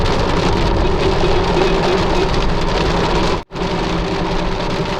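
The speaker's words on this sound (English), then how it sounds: "Whoa, look at all this rain." Steady, heavy rain roaring on a car during a flood, with a low engine hum beneath, unbroken except for a brief dropout near the end.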